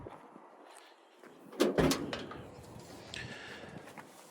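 The passenger-side door of a 1936 Chevy Coupe opens with a sharp metallic latch click and clunk midway through. A faint creak follows in a quiet garage.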